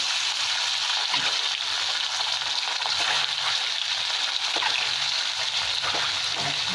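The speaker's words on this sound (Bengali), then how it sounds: "তার তেলটা গরম হয়ে গেছে, সরষের তেল। ডিমগুলো আবার ভেজে নিচ্ছি নুন হলুদ দিয়ে।" Eggs fry in hot mustard oil with salt and turmeric, a steady loud sizzle and crackle with occasional splattering pops throughout.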